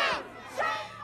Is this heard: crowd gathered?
yes